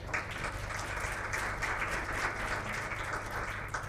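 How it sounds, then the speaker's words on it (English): Audience applause at a session on low-emissions transport progress, a soft, dense wash of clapping heard at a distance with low hum beneath, continuing evenly throughout. "they deserve a round of applause for all the countries"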